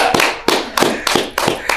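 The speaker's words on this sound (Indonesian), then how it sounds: "Sekali lagi tepuk tangan dong untuk Pak Teddy." Audience applause for a speaker at a business talk, heard as a few loud, sharp, evenly spaced claps in a rhythmic beat, close and prominent.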